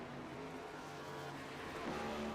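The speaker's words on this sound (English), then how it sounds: "we can almost hear that engine skipping" A race car engine at the Charlotte Motor Speedway roval drones from a distance, faint and uneven as it skips and stumbles, blended into a low, steady track rumble.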